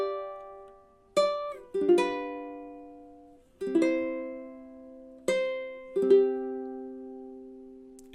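An acoustic guitar plays the Silent Night melody harmonized with chords over a four-bar phrase: slow, clearly plucked notes and strummed chords ring out and decay between each stroke, up close and alone with no talking.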